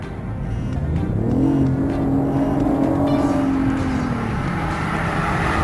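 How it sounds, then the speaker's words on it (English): A hybrid car engine runs at full capacity in sport mode, a loud, steady whir and drone whose pitch rises and then holds, heard close and alone without voices. "the engine is working at full capacity"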